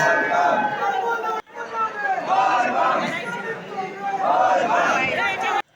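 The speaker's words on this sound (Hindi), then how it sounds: "अंदर भीड़ बहुत ज़्यादा है।" A dense crowd of pilgrims packs a temple interior during the Kavad Yatra, producing a loud, continuous roar of overlapping voices and shouting close around.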